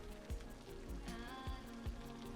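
Steady in-game rain from the city-building game Cities: Skylines, a broad continuous hiss with a few soft low thumps spaced through it, heard alone at moderate level.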